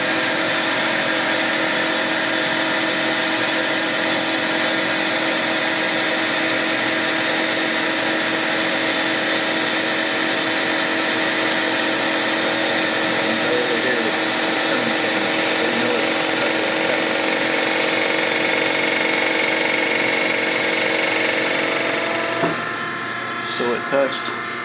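A machine cutting a John Deere 755 cylinder head dry on a first half-thousandth pass, a steady, loud whirring grind that holds evenly before changing tone near the end.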